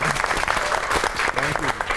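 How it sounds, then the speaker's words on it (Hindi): A studio audience at a comedy talk show claps in a dense, lively burst of applause that stays even and close throughout the short moment. "आपकी बहुत सी तालियों में the real one and only Samuel"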